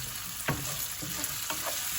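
Chana dal frying in a couple of tablespoons of hot oil for semolina upma, a soft steady sizzle with a few light stirring scrapes, close and alone.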